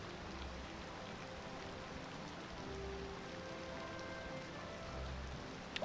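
Steady rain falls at night in the city-building game Cities Skylines 2 on a July evening, a soft, even hiss that holds at low volume throughout with no talk.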